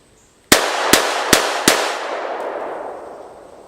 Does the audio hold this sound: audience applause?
no